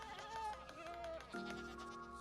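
Goats bleating in the Minecraft video game, several short wavering calls one after another at moderate loudness, with a steady low hum underneath.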